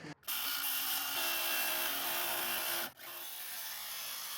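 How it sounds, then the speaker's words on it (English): A small oscillating multi-tool buzzes steadily as it cuts the corners of an RV countertop, a loud, close, continuous rasping drone that stops briefly near the start and again before it resumes. "So I'll get my little oscillating multi-tool and finish the corners"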